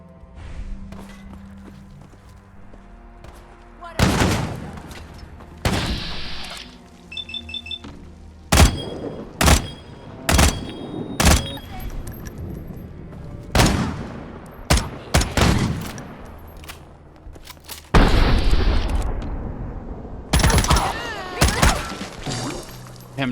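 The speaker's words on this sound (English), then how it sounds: "Firing a shotgun, huh?" Shotgun blasts in the post-apocalyptic game Life in the Ruins, loud, sharp single shots spaced irregularly several seconds apart over a quiet ambient background, with brief electronic chirps between them.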